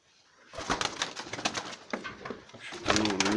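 Pigeons cooing up close in a loft, a run of soft throaty coos repeating in uneven bursts with a louder cluster at the end, faint rustling alongside.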